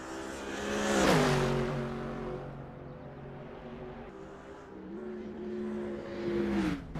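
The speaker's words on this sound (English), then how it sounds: "Difficult not to be in awe just of the sound of these brutal engines." Race car engines lap the Nordschleife during a 2.4-hour race, two cars sweeping by in turn with rising and falling high-revving tones and clear gear changes, one loud close pass and a second building near the end.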